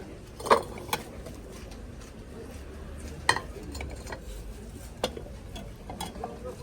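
Hand-painted porcelain plates from the Riga porcelain factory clink at a rainy flea market in Kyiv: a few sharp, scattered taps and knocks over a low murmuring background.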